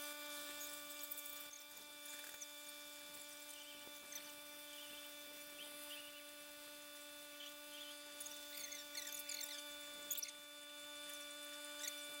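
A hot tub circulation pump runs with a steady electrical hum and strong tonal whine, faint overall, with light irregular patter and small clicks scattered over it and no voices.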